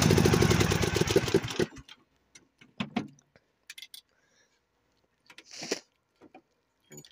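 A cold tractor that won't start is cranked while in gear, giving a loud, buzzing mechanical churn for under two seconds before cutting out, followed by scattered faint clicks and knocks.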